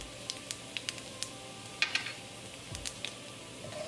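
Cumin and carom seeds sizzle in hot olive oil in a wok, a quiet crackling hiss broken by scattered sharp pops and spits, close and without talk.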